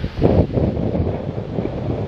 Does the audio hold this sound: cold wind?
yes